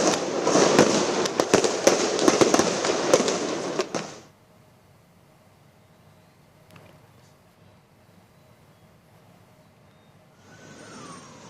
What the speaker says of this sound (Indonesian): Polisi sempat melepaskan tembakan gas air mata untuk membubarkan massa